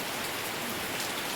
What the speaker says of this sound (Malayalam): നല്ല മഴയാണ്, മഴ കൊള്ളാതെ കാണിച്ചിടാം